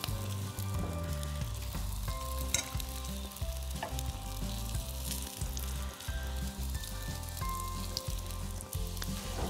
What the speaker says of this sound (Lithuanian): Ir koldūnus šituos su daržovėm, čia su mėsa, čia su daržovėm, sodinu, va šitaip gražiai, rateliu į dugną